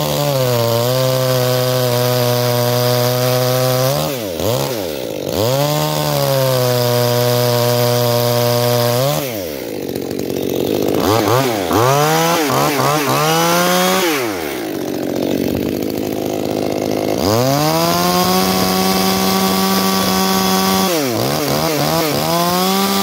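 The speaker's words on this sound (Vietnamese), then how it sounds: "để em test lên em cưa với cái khúc cho vui nha" Maruyama 310 chainsaw cutting a log, loud close engine revving up and down in repeated surges, with harsh grinding bursts as the chain bites into the wood.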